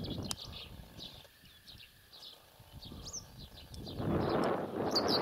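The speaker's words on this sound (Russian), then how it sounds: "Чайки летят" Seagulls call over a northern pond in the morning, giving a series of short, high cries spread across the clip. They sound fairly faint and distant, and a broad rushing noise builds near the end.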